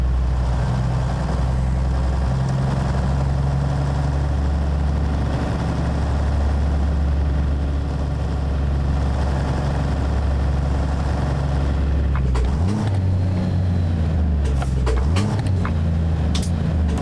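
Cummins N14 truck engine on a Peterbilt 379 in American Truck Simulator, a steady heavy low drone that revs and shifts pitch near the end, loud and continuous.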